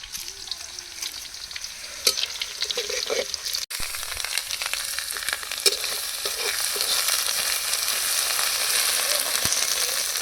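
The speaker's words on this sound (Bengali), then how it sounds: "সব জিরে দিয়ে তেজপাতা দিয়ে ভাজতেছি।" Cumin seeds and bay leaves fry in hot oil over a strongly burning wood fire in a three-mouthed clay stove outdoors, giving a steady, close, crackling sizzle with occasional stirring scrapes and no talking.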